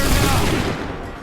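A musket volley from a line of soldiers in Assassin's Creed 3 erupts as one loud, dense burst of overlapping shots, then dies away over about a second.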